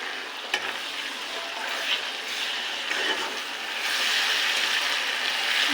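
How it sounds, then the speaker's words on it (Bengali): Ginger, garlic and green chili paste fries with onions in hot oil for a country chicken curry, making a loud, continuous close-up sizzle with light stirring scrapes and no talk. "পেঁয়াজটা ভাজা হয়ে গেছে এবার দিয়ে দেবো আদা রসুন কাঁচা লঙ্কা বাটা"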